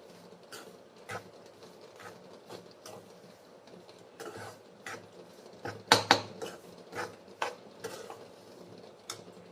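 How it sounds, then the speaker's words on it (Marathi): Semolina roasting in ghee in a pan, stirred with a spoon that scrapes and taps against the metal in irregular strokes, close and fairly quiet over a faint sizzle, with a few louder clinks midway. "मी थोडं तूप टाकले आणि रवा भाजून घेते तुपामध्ये"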